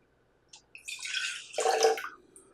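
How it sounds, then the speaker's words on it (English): Lemon juice poured from a container into a cup, a short liquid splash and trickle lasting under two seconds, fairly close and moderately quiet, with no talking over it. "let's pour our lemon juice into the cup"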